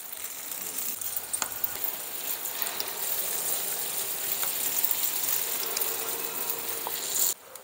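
Awameh dough balls (luqmat al-qadi) frying in hot oil: a steady, bright crackling sizzle with fine popping that runs throughout and cuts off near the end.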